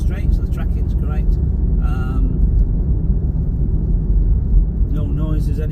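A 2015 Land Rover Range Rover Evoque 2.2 SD4 automatic 4WD with new brake discs cruises along a road, giving a steady low rumble of tyres and engine while someone talks over it.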